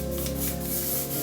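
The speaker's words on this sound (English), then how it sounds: "let's just spray them anyways." Short hissing bursts of olive oil spray misted onto silicone egg bite molds in a kitchen, a breathy airy spray lasting about a second over a faint steady hum.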